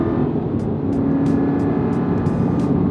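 A lowered Aston Martin runs through high-speed bends with a steady, loud engine drone and road roar heard from inside the cabin, with faint clicks over it and no talk.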